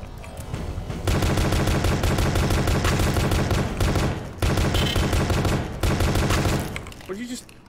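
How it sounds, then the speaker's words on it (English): Rapid automatic gunfire in the horror video game Dread X Collection: Pony Factory, loud sustained bursts of dense shots separated by brief pauses, ending with a short voice. "I'll just keep shooting until I run out of ammo"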